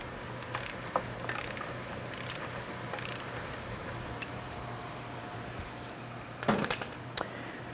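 Lug nuts being hand-threaded onto a Dodge Ram 1500 wheel during a brake job, faint scattered metallic clicks and ratcheting over a low steady hum, with a brief louder clatter near the end.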